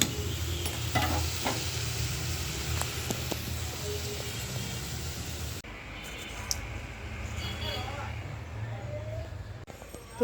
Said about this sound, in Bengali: এখানে কচি আলু ভাজি করে নিতেছি